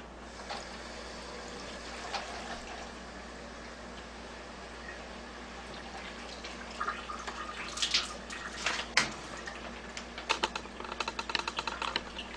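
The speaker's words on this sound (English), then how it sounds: "We're just going to run water through the machine" Cold tap water runs steadily through an Enagic LeveLUK SD 501 water machine, a continuous watery hiss with scattered clicks and splashy taps that grow busier toward the end.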